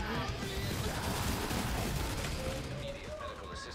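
Rapid gunfire in the video game The Division 2, a dense, loud fusillade of shots running continuously throughout.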